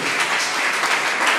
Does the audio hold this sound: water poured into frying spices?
no